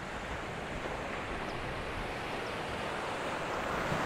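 Sea waves wash steadily against piled boulders of a rocky seawall at Trincomalee, Sri Lanka, a continuous dense roar mixed with wind noise and no talking.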